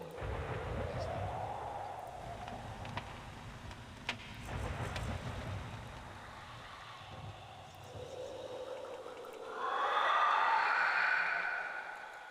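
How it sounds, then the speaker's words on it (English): Thunder rumbles in the video game Dark Fall: The Journal, a low rolling boom with a few sharp cracks, then a louder surge of storm noise near the end, with a voice talking over it. "That's lightning."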